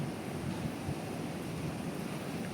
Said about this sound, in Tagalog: May oras lang siya talaga na parang sumisigi yung malakas na hangin tsaka ulan.